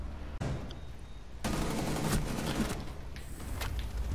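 Rapid gunfire rattles through a tactical shooter game match, a dense burst of shots, a short lull, then sustained firing with sharp cracks, loud and close.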